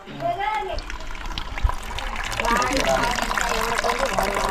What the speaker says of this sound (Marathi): पहा किती बारीक धार आहे पाण्याची